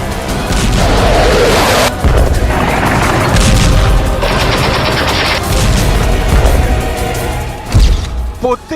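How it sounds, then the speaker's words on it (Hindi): Air-strike explosions rumble back to back in a conflict zone, mixed with loud booms, crashes and bursts of rapid gunfire-like cracks. The blasts are dense and continuous at very high volume. "एक जोरदार धमाका हुआ। पहले धमाके के बाद बैक टू बैक कई एयर स्ट्राइक हुए।"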